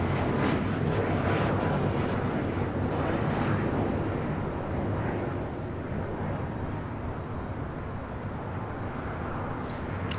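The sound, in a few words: United Airlines Boeing 737 MAX 9 taking off at LAX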